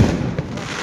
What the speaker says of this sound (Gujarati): અત્યારે ભાઈ જો ફટાકડા ફૂટે જ છે